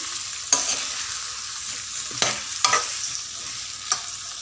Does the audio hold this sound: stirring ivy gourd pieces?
yes